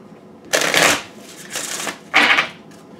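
Tarot cards being shuffled by hand, three brisk riffling bursts of stiff card stock, close and loud with short pauses between them.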